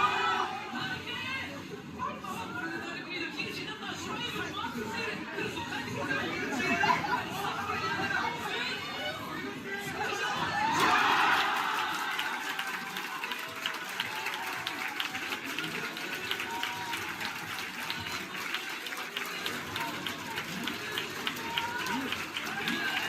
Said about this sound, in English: now there's a crowd reaction from the other side